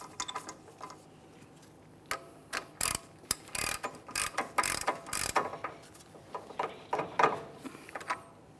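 Hub nut on a 2008-2017 Mitsubishi Lancer front wheel hub being tightened with a torque wrench to 129 foot-pounds: a run of sharp, close ratchet clicks in irregular bursts, no talking.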